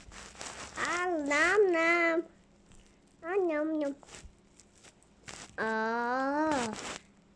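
A cat meows three times, drawn-out and wavering, with pauses between, close by and fairly loud.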